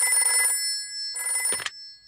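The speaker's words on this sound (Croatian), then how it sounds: "Ipak nazovimo djeda." A cartoon telephone rings in two bright electronic bursts with a pause between them, close and clear, when a call goes out to grandpa.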